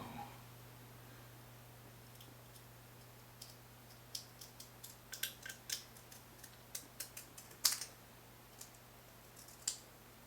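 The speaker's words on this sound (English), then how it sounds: "Now I want scissors." Scissors snip through material in a quiet room, giving a series of faint, irregular clicks that grow denser in the middle and then taper off. A low steady hum sits underneath.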